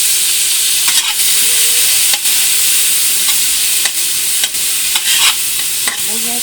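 Onions and tomatoes sautéing in a hot pan, a loud steady sizzle close by, broken every second or so by the scrape and clatter of a spoon stirring through the vegetables.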